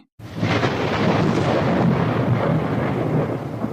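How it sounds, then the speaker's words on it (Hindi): A heavy, sustained roll of thunder bursts in after a moment of silence and rumbles on loudly, with no voices. "तभी बिजली कड़की।"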